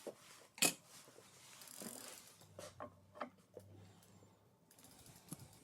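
Bicycle pedal being threaded into the crank arm and tightened on a RadCity 5 Plus e-bike held in a stand, giving a short run of close, dry mechanical clicks and ratchet-like ticks with one sharp knock near the start.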